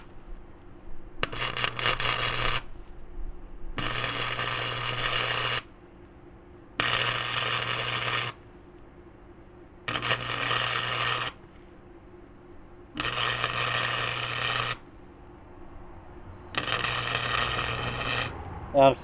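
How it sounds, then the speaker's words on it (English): Front hubs for a mud mower are stitch welded in six evenly spaced bursts of harsh, steady crackling buzz, each lasting a couple of seconds and separated by short quiet pauses. "I'm stitch welding it together in a way"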